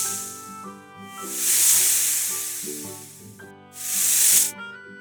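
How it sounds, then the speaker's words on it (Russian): Rattlesnake rattling as a dry, hissing buzz that swells in two loud bursts over soft background music, with a quieter steady rasp in between. "Гремучая змея."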